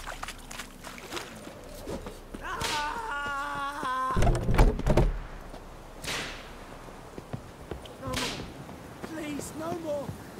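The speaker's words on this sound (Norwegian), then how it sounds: "han blir pisket av han duden med risen" In a video game, a man is whipped with a birch rod: sharp lashing cracks and thuds in a scuffle, with game voices shouting and talking over them at close range.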